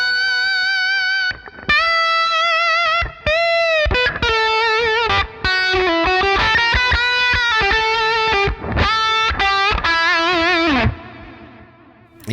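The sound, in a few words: electric guitar lead tone through REVV G4 distortion pedal gain channel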